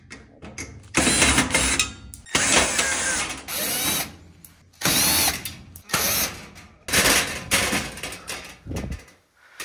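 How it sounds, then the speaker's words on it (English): A cordless drill or driver backs screws out of the back panel of an electric oven: loud, close bursts of whirring motor and ratcheting clatter, about six separate runs with short pauses between. "I'm gonna take off this back panel held in by three screws on each side."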